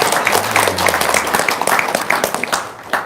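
An audience at a religious talk claps in a dense, steady wash of applause, loud and close, with faint voices mixed in.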